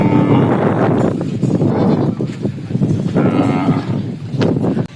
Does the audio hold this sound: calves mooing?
yes